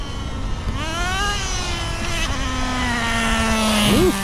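A small, high-pitched nitro engine in a Traxxas Rustler 2.5 RC car, still breaking in, whines loudly and close, its pitch rising and falling as it revs and speeds up.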